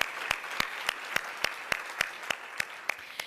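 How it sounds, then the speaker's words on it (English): Audience applause at a morning leadership event with sponsor recognitions, heard as a steady patter of clapping with sharp regular peaks, moderately loud and sustained with no talking. "One more round of applause for Kara and BMO Harris Bank"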